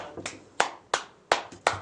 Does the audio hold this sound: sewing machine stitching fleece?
no